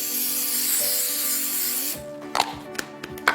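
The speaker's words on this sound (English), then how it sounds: "So we're just gonna spray or butter each of these so nothing sticks." A continuous hissing of cooking spray on loaf pans lasting about two seconds, followed by quiet clatter and small knocks of the pans being handled.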